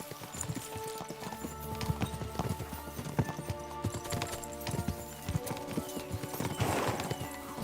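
Horses gallop in Kingdom Come: Deliverance 2, a steady clip-clop of hooves running continuously under layered game music and ambience, with a brief whinny-like rise near the end.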